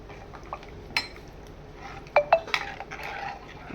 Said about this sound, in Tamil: அதையும் போட்டுட்டு நல்லா ஒரு கிளறி விட்டுக்கோங்க